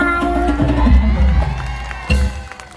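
An audience at a Thai stage show applauds and cheers after a song, a loud burst of crowd noise with voices rising over it before it briefly fades and swells again.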